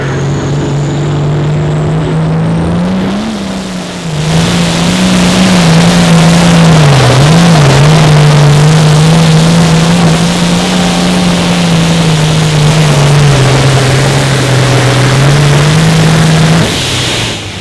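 Super farm class pulling tractor at an outlaw pull in Wisner, Nebraska, roaring under sustained heavy load for a long run, loud and close, pitch wavering slightly as it drives down the track, then cutting off near the end.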